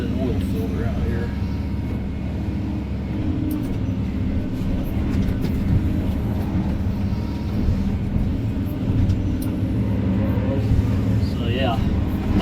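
A Volvo 160E excavator clearing a fence-row tree line, with a steady, heavy diesel rumble and low mechanical drone running throughout at close range and fairly loud.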